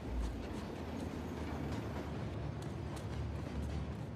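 A moving train in the Uncharted: The Lost Legacy video game gives a steady, loud, broadband rumble with low-end roar and faint rhythmic clatter, continuous throughout with no talking.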